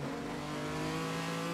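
A rally car engine in the Assetto Corsa racing game, on a snow rally stage, holds a steady, loud, buzzing drone for the whole moment without breaks or pauses.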